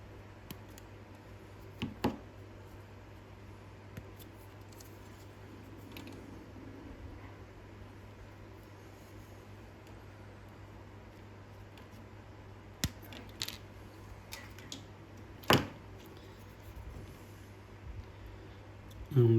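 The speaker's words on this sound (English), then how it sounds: "I'm just going to cut off this rear section." Sprue cutters snip a part of a 1/100 scale plastic BTR-60 armoured personnel carrier kit off its sprue, with a few sharp, isolated clicks over quiet background hum and long pauses between cuts.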